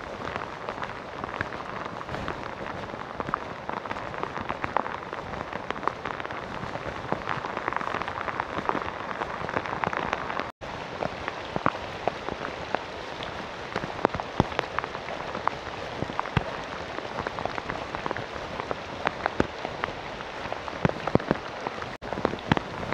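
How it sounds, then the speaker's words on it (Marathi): Heavy monsoon rain pours steadily in the Sahyadri hills, a dense, close, unbroken hiss of drops striking surfaces for the full length, with no voices. "खूप पाऊस आहे"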